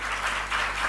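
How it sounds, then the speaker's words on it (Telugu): Loud clapping from a church congregation during a sermon, a brief dense burst of many hands, close and continuous throughout. "ఒకసారి గట్టిగా చప్పట్లు కొడితే అవసరం"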